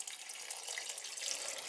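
Water runs steadily from a kitchen tap, a brief close rushing splash with an even hissy texture and no voices.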